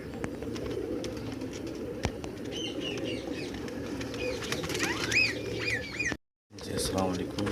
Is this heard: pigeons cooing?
yes